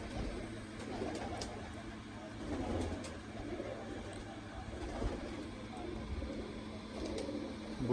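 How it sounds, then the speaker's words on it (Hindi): Domestic pigeons kept in a loft give soft, low cooing in a rainy outdoor setting, murmuring faintly and repeatedly beneath a nearby voice. "वो जो मलंग कबूतर है ये भी उन्हीं में से है।"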